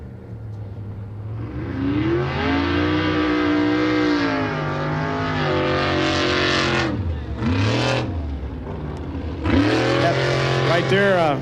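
An 800 horsepower trophy truck in a desert race roars loud and close, engine revving and surging continuously with pitch swings as it accelerates and backs off, with a commentator talking over it.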